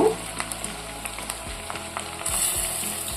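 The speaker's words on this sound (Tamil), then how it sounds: "வெங்காயம் பச்சை மிளகா நல்லா வதங்கிடுச்சு" Onion and green chili sizzle and crackle in a hot pan, with a few clinks of stirring and a brief louder hiss near the end.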